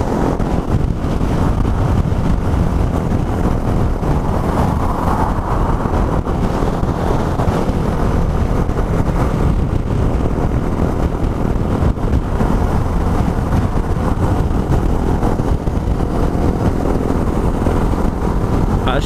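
Steady roar of a group of motorcycles, including a Fun 125 and 150–160 cc bikes, riding on a highway, heavy with constant wind buffeting the microphone throughout.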